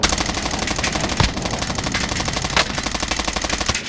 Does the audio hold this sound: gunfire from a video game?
yes